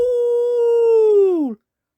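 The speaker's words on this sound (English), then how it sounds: "I like howling really loudly, howled Wendy Wolf." A cartoon wolf in Peppa Pig gives a single loud, sustained howl lasting about a second and a half, holding a steady pitch before dropping at the end, then silence.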